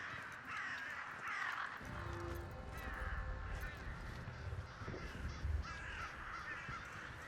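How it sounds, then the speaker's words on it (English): Several crows caw in the video game Redfall in repeated harsh bursts above a constant low ambient rumble, the calls spread across the scene at moderate distance. "Hey, there's a lot of crows up there."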